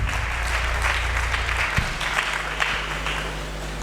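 Steady applause from a church congregation during a sermon, dense continuous clapping filling the room with a low hum underneath and faint voices.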